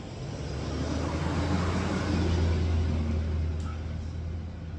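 Steady low rumble of road traffic passing outdoors, a continuous broadband wash of tires and engines that swells slightly mid-clip and holds without a clear gap.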